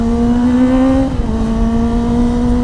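A Yamaha YZF R-series two-cylinder sport motorcycle engine holds a steady, loud revving tone under throttle, dips briefly, then climbs back and holds near the rider.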